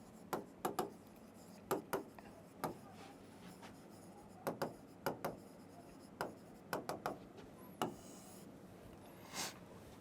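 Marker or chalk strokes on a board during a maths lesson on cubic polynomials, heard as short scratchy squeaks in quick clusters of two or three with brief pauses between, fairly faint and close, with no talking.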